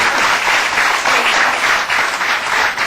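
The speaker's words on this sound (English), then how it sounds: "Let's give a loud round of applause to director Ashutosh Gowarkar" Studio audience gives a loud round of applause on an Indian talk show, steady dense clapping that fills the whole stretch with no voices on top.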